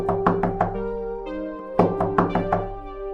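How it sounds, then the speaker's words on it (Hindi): A knocking sound effect on a gate: two bursts of sharp, evenly spaced knocks over a low ringing musical drone. "अचानक उसको गेट खटखटाने की आवाज आती है।"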